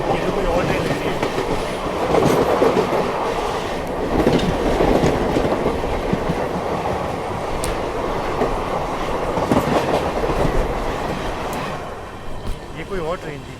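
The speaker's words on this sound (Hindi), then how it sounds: "ये तो कोई और ट्रेन लग रही है।" A passing train on an Indian railway line rumbles past close by with rhythmic clickety-clack of wheels over rail joints, a steady loud wash of rolling noise that fades near the end.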